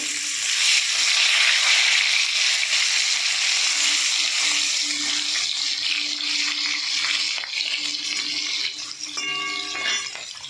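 Fish frying in hot oil, a continuous bright sizzle holding steady and easing slightly toward the end, with faint clinks near the close, no voices.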